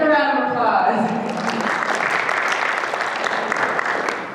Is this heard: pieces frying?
no